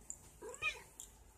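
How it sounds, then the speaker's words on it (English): A house cat gives a short, faint meow with one or two soft chirps in a quiet indoor room. "Go away, cat."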